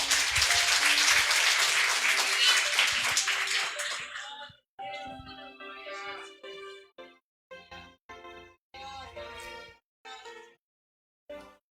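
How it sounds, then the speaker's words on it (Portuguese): Church congregation applauding for about four seconds, a dense burst of clapping that fades out before a voice takes over and speaks in short phrases. "Aplauda o Senhor"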